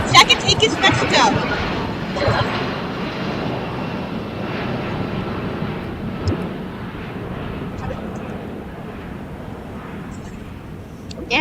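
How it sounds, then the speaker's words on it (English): A United Airlines Boeing 757-224 takes off from runway 25 at LAX, bound for Newark, with a loud, close jet roar at the start that settles into a steady, broad rumble for the rest of the roll. "just taking off here on the 25s with United Airlines Flight 1700 back to EWR New York City on a Boeing 757-224"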